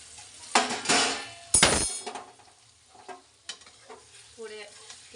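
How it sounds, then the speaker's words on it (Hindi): Vegetables being tempered in hot oil in a kadhai, with sharp sizzling bursts and a loud clatter of a spoon or utensil against the pan, then softer frying crackle and scraping, no talking. "मैंने फिर सब्जी छौंक ली"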